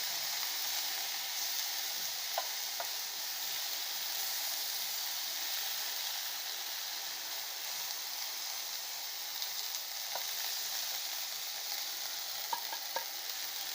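Onions sizzling as they are stirred into tomatoes on an electric grill turned low, a steady close frying hiss with occasional small pops and clicks throughout.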